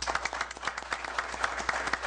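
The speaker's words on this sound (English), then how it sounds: "We owe you an applause for the work that you've done." Brief applause from a small audience at a legislators' forum, a couple of seconds of moderately faint, irregular clapping with no voices over it.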